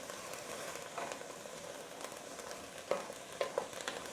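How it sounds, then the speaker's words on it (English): Onions sauté on high heat in a steady low sizzle, while a utensil scrapes and clinks against the pan in a few quick stirs, fairly quiet, no talking. "And this is called sautéing, which just means stirring while cooking on high heat."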